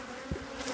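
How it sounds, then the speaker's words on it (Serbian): Agitated honeybees buzzing near their hives at an apiary: a brief, faint, steady drone with no voices. "Naše pčelice i one imaju pravo da se bune, ne daju prići svojim kućicama"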